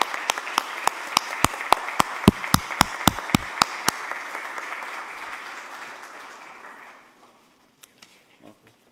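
An audience at a book presentation in Puerto Rico applauds in memory of a woman being honored, a sustained wash of clapping with a few sharp nearby claps on top, fading out after about seven seconds.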